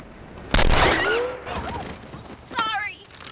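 A rifle volley rings out at a military shooting drill, one sharp loud crack followed by echoing decay, then a second burst a couple of seconds later. Voices sound around the shots.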